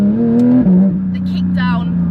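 A Porsche 992 GT3 RS with a PDK gearbox kicks down, its engine note stepping abruptly in pitch and then holding a steady, loud drone while someone talks over it.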